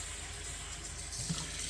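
Hot tap water runs steadily into a container to mix an oxalic acid cleaning solution for rust on a driveway, a soft, low hiss that swells slightly near the end.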